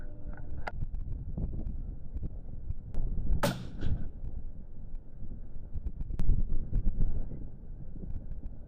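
A 25 Creedmoor rifle fired at targets 1,000 yards away outdoors, giving a few sharp cracks spaced seconds apart, one noticeably louder, over constant wind buffeting the microphone.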